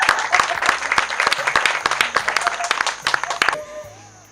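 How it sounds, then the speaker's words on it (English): An audience at a New Life Foundation event claps in a dense burst of applause that fades out over a few seconds, loud and alone. "Another big hand clap for Susan, please."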